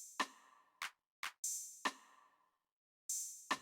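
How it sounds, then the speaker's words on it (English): Sparse, very simple trap drum pattern: punchy kick and snare hits with bright crisp tops, spaced irregularly with short silent gaps, played alone and upfront. "I made some like super simple trap drums, literally the most simple."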